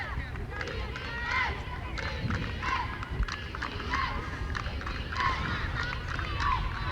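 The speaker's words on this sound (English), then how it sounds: "Glenbard bench and crowd is getting a little fired up, trying to get behind their team" Softball bench players and spectators at a 1996 high school game between Moline and Glenbard North calling out and cheering in a lively, continuous din, with a commentator speaking over it.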